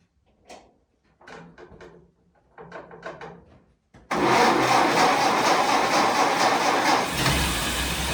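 A 1931 Ford Model A pickup engine is cranked in several slow, labored bursts separated by pauses, then fires and settles into a loud, steady close-up idle.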